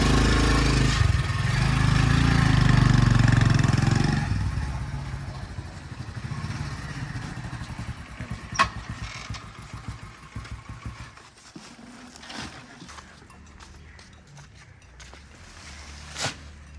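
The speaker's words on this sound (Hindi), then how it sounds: "मोटरसाइकिल आगे चला जाए।" A motorcycle engine runs loudly up close at a village home, then pulls away and fades into the distance. Clatter and scattered knocks follow as the rumble recedes.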